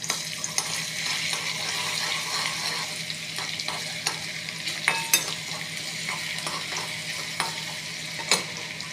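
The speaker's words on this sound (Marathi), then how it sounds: "आपण थोडंसं तेल ठेवलं आहे कढईत गरम करायला. त्यात आपण हिरवी मिरची लसूण टाकून घेऊयात पहिल्यांदा" Green chillies and garlic frying in hot oil in a wok (kadhai) while being stirred, with a continuous close sizzle and scattered clinks and scrapes of the spoon against the pan, no talk.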